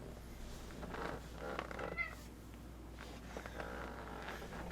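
Deuce, a pet cat, makes a few soft, quiet meows close to the microphone over a low steady hum, with no talking.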